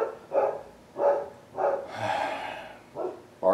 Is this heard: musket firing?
no